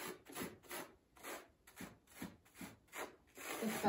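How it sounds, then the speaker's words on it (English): A flat putty knife scrapes back and forth across painted velvet chair fabric, giving soft, rhythmic rasping strokes in a series of close, even passes. "So I just use a flat putty knife or scraper and just rub across"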